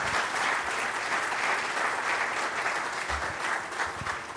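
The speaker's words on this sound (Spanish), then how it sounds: "El aplauso para ella, por favor." Audience applauding in an auditorium at a charity foundation's raffle event, a dense steady clapping that holds at full strength throughout, with no voices on top.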